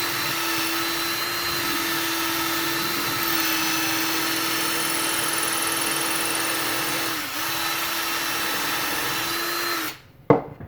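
A power drill runs steadily into a 1:4 scale Wolverine model piece, a continuous whining motor drone that holds for about ten seconds, dips briefly midway, then stops with a couple of clunks.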